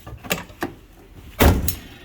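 A car door is slammed shut during crash repair on a budget drift build with a misadjusted striker; one loud, close impact lands mid-clip, with fainter knocks and clunks before and after it.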